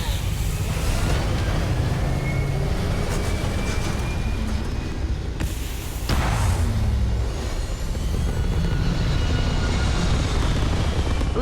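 A spaceship lifts off in the game Starfield with a loud, continuous engine roar and rumble that swells, dips briefly, then surges again.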